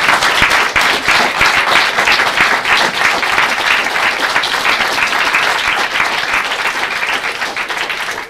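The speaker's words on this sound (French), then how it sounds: "vous pourrez les applaudir, ça leur fera plaisir" An audience applauds child actors after a French children's play, dense and loud clapping held steadily for over eight seconds before tapering slightly at the close.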